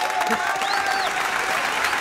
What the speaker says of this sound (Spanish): un aplauso bien fuerte para Natalia